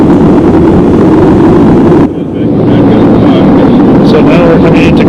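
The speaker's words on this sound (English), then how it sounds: "So now we've got the wheels down for landing." Inside a private jet with its wheels down for landing at Kathmandu Airport, a loud, constant roar of rushing air and engines fills the cabin, dipping briefly around the two-second mark.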